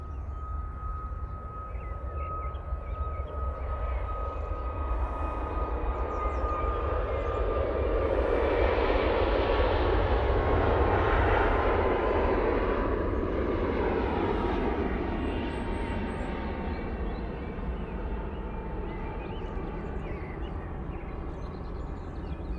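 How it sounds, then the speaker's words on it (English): A Ryanair passenger jet takes off at Manchester Airport in low visibility, its distant engine roar swelling to a loud peak, then fading slowly as the aircraft climbs away. "Ryanair to Fuerteventura will be out next"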